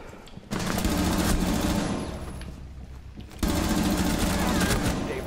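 Rapid bursts of gunfire in a hostage-rescue shooter game, dense and loud, with a brief drop in the middle before a second heavy volley resumes.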